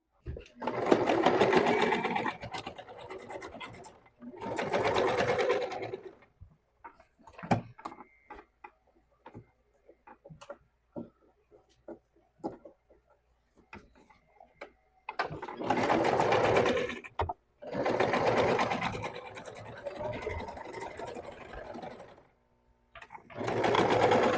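A sewing machine stitches a seam in long steady runs at the start and end, with a stretch of light ticks and handling between.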